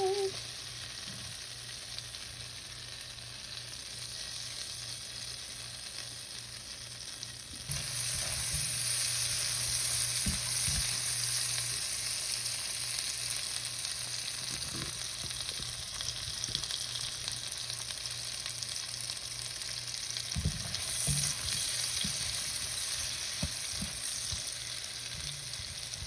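Chopped vegetables for sausage and potato soup fry and get stirred in a pot with a steady sizzle that grows louder partway through, broken by soft scraping stirs and utensil knocks.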